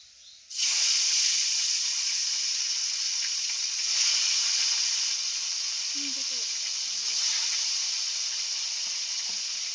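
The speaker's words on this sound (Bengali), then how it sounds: "এই কাতলা মাছগুলো আস্তে আস্তে এই তেলেই ভেজে নেব" Pieces of catla fish fry in a generous amount of hot oil, giving a steady loud sizzle that starts abruptly and holds throughout, with a faint clink partway through.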